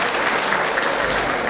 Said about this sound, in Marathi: आता एकदा जोरदार टाळ्या वाजवा